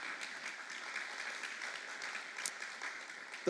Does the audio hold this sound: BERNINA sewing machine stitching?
no